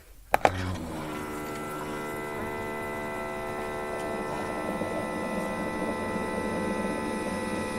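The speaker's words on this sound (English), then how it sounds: "And that is the sound of my water getting hot." A couple of sharp clicks, then a steady electric hum with faint bubbling as a K-Cup coffee maker heats water, continuous and fairly quiet.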